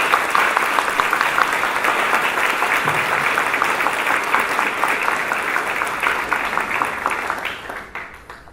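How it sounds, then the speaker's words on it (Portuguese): Warm, sustained applause fills a hall at a Bahá'í bicentenary celebration, dense and even for several seconds before fading away near the end. "A ela pedimos uma efusiva salva de palmas."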